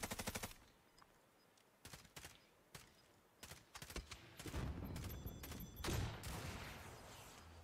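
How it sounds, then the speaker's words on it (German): Gunfire in Call of Duty: Warzone, with bursts of rapid automatic shots and single cracks, some close and loud and others more distant, ending in a dense rumbling stretch of firing. "Guck nach links, da schießt irgendwo noch einer."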